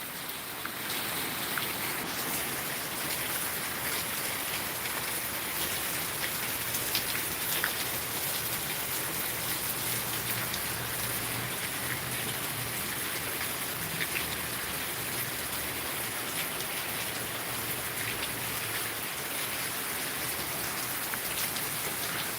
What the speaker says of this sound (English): it is raining quite heavily